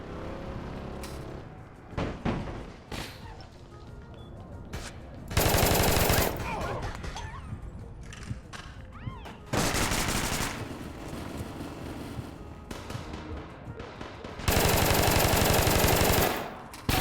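A Tommy gun fires in a video game in several long, loud, close bursts of rapid automatic fire, with quieter stretches of scattered shots and game noise in between.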